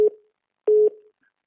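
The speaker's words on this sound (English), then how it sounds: "Somebody's ringing me." A phone rings with two short electronic tones separated by a pause, clear and isolated against silence, with a faint tail after each.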